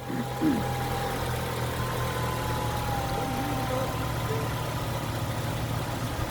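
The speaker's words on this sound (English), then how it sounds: "Sorry Andy, I can't hear you, your engine's running" A Saab 9-3 Turbo car engine idling steadily with a low, even hum and faint ticking, running continuously at moderate level with no talk over it.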